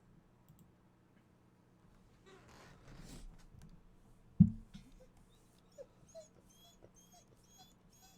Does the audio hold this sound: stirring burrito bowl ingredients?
no